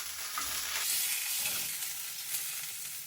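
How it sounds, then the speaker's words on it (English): Peach ribs browning in a hot skillet give a steady, close sizzle that holds evenly throughout, with no voices. "We're going to try to brown this little part here. Holding that onto the skillet."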